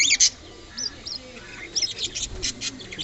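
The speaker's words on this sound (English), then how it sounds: "They are my new cockatiel pair" Young grey cockatiel pair, about five to six months old, giving short high chirps and calls in a scattered irregular series, moderately close, with some soft background noise.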